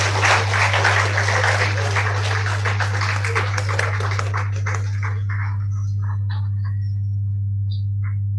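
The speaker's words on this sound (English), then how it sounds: "Round of applause for Dr." An audience applauds the chief guest, Dr. V. Shankar, at a 75th Foundation Day celebration, dense clapping over a steady low hum that thins to a few scattered claps and fades out.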